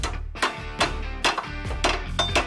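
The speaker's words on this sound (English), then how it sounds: "I'll be able to tap the ball joint into place through the bottom without using a press" Sharp metallic hammer blows tapping a ball joint into place through the bottom of a 3rd gen 4Runner suspension part held in a vise, about six distinct strikes at an uneven rhythm, close and ringing over a low background hum.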